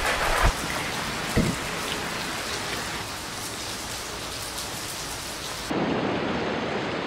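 Heavy rain pours outdoors, with two sharp close thunder cracks early on and a steady hiss of rain on surfaces throughout that swells louder near the end; no voices.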